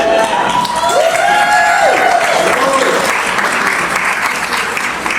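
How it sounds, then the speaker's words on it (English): A wedding crowd claps loudly and steadily after a speech, with some cheering and voices mixed into the sustained applause. "a round of applause for a beautiful and emotional speech from Sofia Carrasco."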